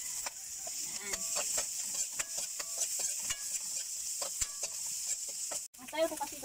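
Sweet potato leaf stalks frying in oil in a pan for healthy fried rice, a steady close sizzle broken by repeated clinks and scrapes of stirring, with no talk.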